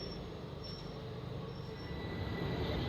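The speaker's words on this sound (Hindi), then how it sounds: "चलिए, हमारी ट्रेन भी डिपार्ट होने के लिए रेडी है।" Koyna Express train departing, a steady rumble of rolling wheels and carriages heard from inside, with faint high squeals from the rails over a continuous low drone.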